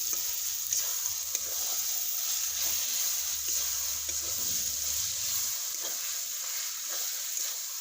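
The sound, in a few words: chicken with mango leaves and spices frying and being stirred in a pan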